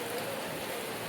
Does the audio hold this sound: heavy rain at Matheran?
yes